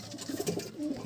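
A racing pigeon coos softly and close by, giving a short series of low, throaty, bubbling coos over about a second with faint background hiss.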